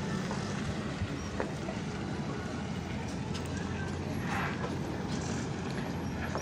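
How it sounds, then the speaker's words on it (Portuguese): A large truck rumbling down a steep dirt road slope on the BR-319 highway, a steady low engine drone throughout with faint clanks, fairly distant and without talk. "Olha o caminhãozão aqui descendo."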